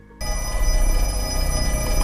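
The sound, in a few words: telephone ringing in a Black Phone 2 movie clip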